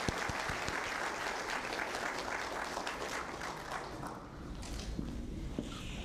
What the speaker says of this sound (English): please give a big round of applause for these candidates and our non-contested candidates